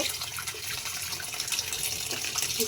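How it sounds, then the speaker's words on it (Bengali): Running water splashes continuously over kalai leafy greens being rinsed under a tap, steady and close, with no voices. "শাকটাকে আমি সুন্দর করে পরিষ্কার করে ধুয়ে একটু পানি ধরা দিয়ে দিব"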